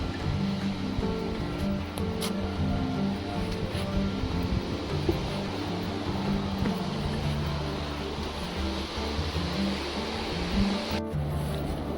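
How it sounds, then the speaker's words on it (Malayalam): Continuous roar of rough sea surf at Bekal Fort, Kasaragod, with wind buffeting the microphone, a dense, unbroken wash of breaking waves close by. "പ്രക്ഷുബ്ധമായ കടലാണ് കേട്ടോ"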